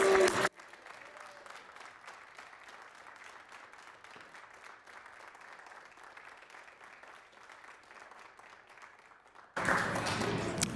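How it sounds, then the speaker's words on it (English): Sustained applause from members of a provincial legislature in the House of Assembly chamber, steady dense clapping lasting about nine seconds between louder moments of room sound at each end. "I would ask you all to rise to receive much-deserved applause from the members of this legislature."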